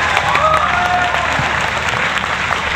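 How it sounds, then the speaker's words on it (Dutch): Audience at an equestrian event at the Military Boekelo clapping loudly and continuously, a dense wash of applause close around, with faint crowd murmur beneath. "Geef ze nog een mooi applaus."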